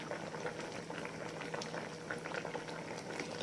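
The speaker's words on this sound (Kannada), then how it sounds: "ಚೆನ್ನಾಗಿ ಕುದಿ ಬಂದಿದೆ, ಬೇಯ್ತಾ ಇದೆ ನೋಡಿ." Sambar bubbling at a steady boil in a cooking pot, a continuous close, dense crackle of popping bubbles with no talk over it.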